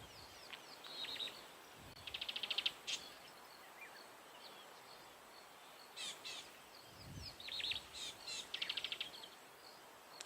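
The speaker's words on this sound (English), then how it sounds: "the variety of normal bird calls you can hear in the distance, some of those doves and things" Distant bird calls, including doves, drift across an African safari landscape at sunset: scattered chirps and short trilled bursts, faint and far off over quiet ambience.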